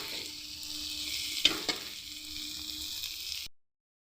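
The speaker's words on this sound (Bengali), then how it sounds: "মশলাটা যাতে ভালো করে ভাজা হয়ে যায়" Spice paste with ginger fries in hot oil, a steady close sizzle with a couple of sharp stirring knocks midway, cutting off abruptly near the end.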